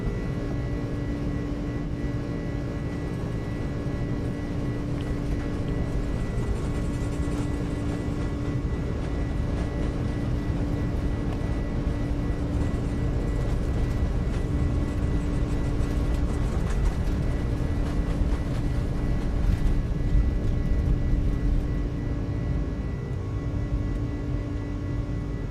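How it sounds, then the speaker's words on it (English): A UPS Airbus A300 at Rockford airport produces a steady, continuous jet engine drone with faint tonal whine, holding at even loudness for a long stretch. "I hate this fucking airplane."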